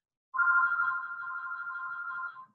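A phone rings with a steady electronic tone that sustains for about two seconds and then cuts off, heard alone and fairly close in an otherwise quiet room during an online class meeting.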